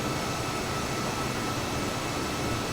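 Jet engines of an American Airlines A320 airliner in a flight simulator give a steady, even broadband roar, heard from inside the aircraft during an evening approach into LaGuardia, with no voices.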